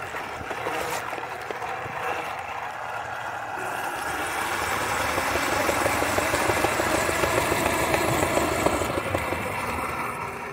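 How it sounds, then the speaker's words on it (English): A Pulse electric scooter motor running during a repair test, a steady mechanical whir and hum that grows slightly louder midway and holds continuously, close to the listener. "looks like the motor is working."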